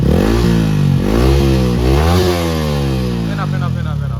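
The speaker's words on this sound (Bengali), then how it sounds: "আমি এক্সট্রাতে দেখাইতেছি যে আমার ইঞ্জিনের সাউন্ডটা ঠিক হচ্ছে এরকম" A motorcycle engine revs steadily at its ideal RPM, then rises and falls in pitch through several throttle blips, loud and close throughout.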